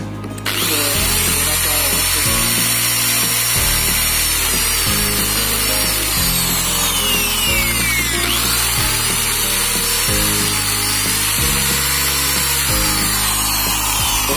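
A power drill bores a hole through a plate so a button can be fitted, a loud, continuous whine whose pitch steps up and down as the bit works through the material.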